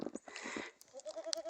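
Boer goats bleat on a snowy Tennessee farm, a few short calls followed by a sustained, tonal bleat near the end, fairly close against a quiet outdoor background.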